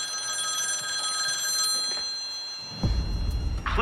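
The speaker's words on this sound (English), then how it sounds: "when your phone rings" A telephone rings with a sustained, bright electronic trill that holds steady for several seconds before a heavier, rumbling noise breaks in near the end.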